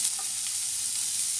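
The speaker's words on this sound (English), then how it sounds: "Saute it until the onions become translucent." Chopped onions sautéing in a pan for potato samosa filling, a soft, even sizzle with a faint stir at the start, close and with no talk.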